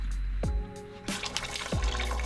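Oil draining from a Nissan 350z into a bucket gives a steady liquid pour with a few distinct drip-like plops, close and continuous.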